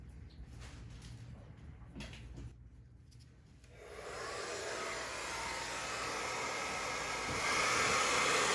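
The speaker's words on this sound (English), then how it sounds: "After pouring out a generous amount of paint, I'll blow it around with the blow dryer." A blow dryer runs steadily while pushing poured acrylic paint across a canvas for a Dutch pour painting, its broadband rush swelling louder partway through after quieter rubbing and handling sounds.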